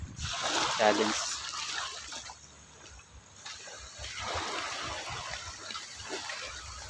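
Water splashes and gushes as someone wades across a shallow stream, a moderate irregular sloshing close by, with voices talking over parts of it.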